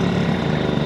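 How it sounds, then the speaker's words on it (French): A scooter engine drones in a steady, buzzing idle close by, one unbroken mechanical hum for a brief moment with no voices. "je le laisse derrière avec son scooter qui fait du bruit"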